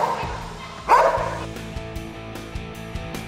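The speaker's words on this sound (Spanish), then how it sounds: "Esto es parte del entrenamiento de un perro de guardia" A guard dog in protection training barks and yips close by in sharp repeated bursts, with a whimper between barks and some background voices.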